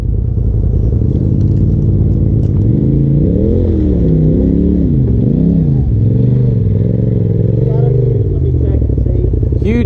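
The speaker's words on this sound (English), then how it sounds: "Now just give it some gas." An off-road vehicle engine revs loudly and steadily on a muddy trail at Windrock, its pitch rising and falling through repeated throttle pushes, with a person talking over the drone.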